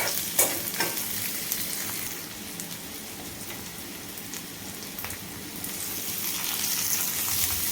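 Onion and tomato sautéing in a pan for a prawn masala, a constant loud sizzle and crackle with occasional scraping stirs, running throughout with no talk.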